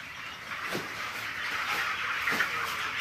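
Chickens on a Noakhali poultry farm of about two thousand birds, stressed by power cuts, make a constant soft background murmur with a couple of brief clucks, fairly distant and steady, no voices.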